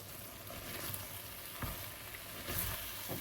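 Hot water is poured into soya chunks masala cooking in a pan, giving a steady hiss and sizzle with a couple of louder bursts and no talk.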